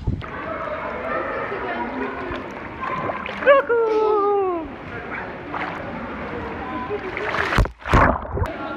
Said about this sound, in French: Donc là, on est à la piscine des Ménuires